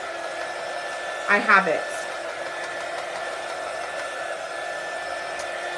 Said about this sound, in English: be careful when you're drying it with a dryer that your ink mat doesn't melt